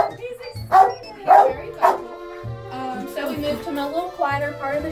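Dogs bark in an animal shelter kennel area, several sharp barks in quick bursts over the first two seconds, then quieter yips and whimpering layered over a steady background hum, fairly close and loud.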